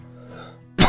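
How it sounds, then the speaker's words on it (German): A single short, sharp cough bursts out near the end, after a quiet stretch of low tonal background from a Minecraft session. "Kleiner Huster schneidet natürlich hinterher gekonnt raus."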